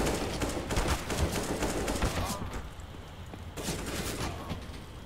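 Gunfire in a shooter video game, sustained dense bursts of shots and rapid automatic fire, loud and close, easing briefly before resuming, with no speech.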